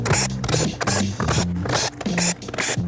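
Power screwdriver backing perimeter screws out of the rear panel of a Samsung UN32F5500 TV, a loud buzzing whir in repeated short bursts with brief pauses between them, close up.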